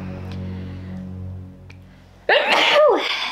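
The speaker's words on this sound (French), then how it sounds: "Éternuement." A single loud sneeze bursts out after a few seconds of low background hum.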